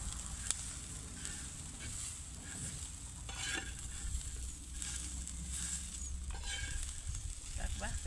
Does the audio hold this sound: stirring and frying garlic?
yes